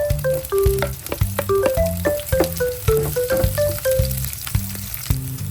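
Onion and garlic sautéing in hot cooking oil in a pan, a steady close sizzle broken by repeated stirring clatters and scrapes, with tonal utensil knocks in a busy rhythm and no voices.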